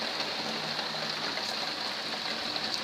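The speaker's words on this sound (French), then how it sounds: "Oh là, il pleut fort." Heavy summer rain pours down in Lœuilly, a dense, steady hiss of falling water that stays even and unbroken throughout, with no voices.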